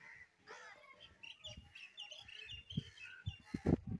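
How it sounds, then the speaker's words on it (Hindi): Crows calling near a village house while eating pieces of roti, harsh caws and chirpy calls at close range, scattered and irregular, with other birds or fowl faintly around. "कौवे कौवे हो गए, काफ़ी देर से लगता भूखे है जी।"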